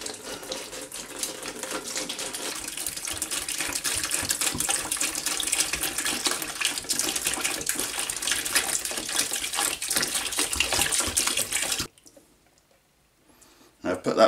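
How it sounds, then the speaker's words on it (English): Liquid from a homemade rosé wine kit is poured steadily into a container, a continuous splashing gush running for about twelve seconds before stopping abruptly, followed by near silence and a faint clink at the end. "I'm gonna pour this out into our container."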